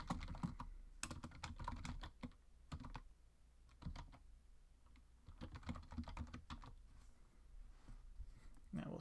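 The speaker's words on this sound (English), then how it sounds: "typing out a new message" Irregular bursts of clicking keystrokes on a computer keyboard, quiet and close, with short pauses between runs of typing.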